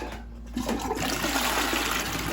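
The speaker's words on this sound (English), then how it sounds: "It actually flushes." A homemade pump-up toilet with real running water flushes loudly and close by, a rushing swirl of water that builds and continues steadily for a couple of seconds.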